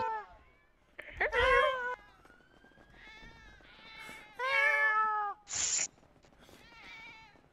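Cat meows in a GTA 5 roleplay game, several drawn-out, wavering meows spaced across the stretch, fairly close and clear, with a short sharp burst of noise between them and faint talk in the background.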